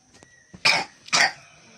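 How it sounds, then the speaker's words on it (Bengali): A child gives two distinct harsh coughs about half a second apart, close and moderately loud against a quiet background. "দেখছো কেমন কাশি হচ্ছে,"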